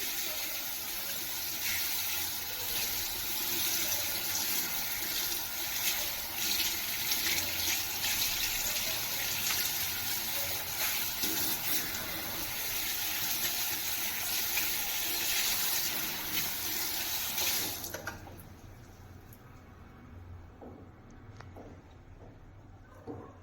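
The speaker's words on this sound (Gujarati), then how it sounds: "તેને પાણીથી ધોઈ લઈશું" Water runs steadily onto a hot iron griddle during cleaning, a loud, continuous rushing splash close by that cuts off abruptly near the end, leaving only quiet background.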